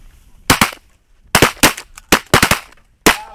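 Shotgun blasts aimed at snow geese during a snowy South Dakota duck hunt, about eight sharp, loud reports coming in quick clusters of two and three with short gaps between them.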